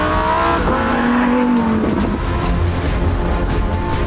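Lamborghini Huracan with a 5.2 litre mid-mounted engine and rear-wheel drive, loud engine roar revving and shifting pitch, with a brief tire squeal, close and continuous.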